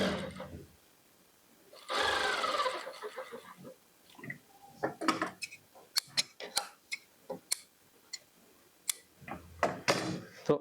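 A sewing machine stitches along the edge of kurti fabric for a cordset. It runs in a short burst, followed by scattered ticks and clicks of handling at the machine, with quiet talk nearby.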